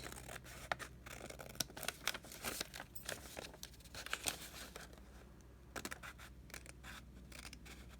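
Scissors cut out a paper template from a sheet folded in half, giving a steady run of close, crisp snips and paper rustles for several seconds, with no talking.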